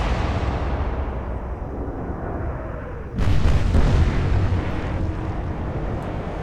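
Naval artillery salvo in the Atlantic Fleet war game: a deep rumbling backdrop broken by one sudden heavy boom that rolls on and slowly fades.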